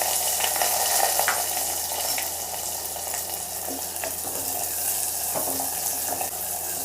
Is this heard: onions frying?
yes